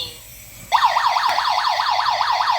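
A loud electronic alarm from a GD13 combustible gas (LPG) leak detector starts abruptly and wails in a rapid, repeating up-and-down sweep, steady and continuous with no talking.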